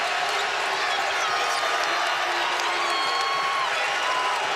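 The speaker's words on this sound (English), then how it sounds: "Crowd getting into it here at the Yum." Louisville Cardinals fans roar at a men's college basketball home game against Florida State at the Yum Center, a dense, loud, sustained crowd cheer with a commentator talking over it.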